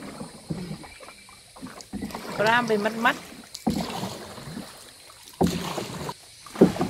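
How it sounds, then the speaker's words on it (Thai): A man paddles a rowing boat on water near Ban Nam Rad in Khiri Rat Nikhom, Surat Thani, with scattered soft splashes and wind noise while someone talks throughout. "ดูผู้ชายพายเรือของเรานะคะ"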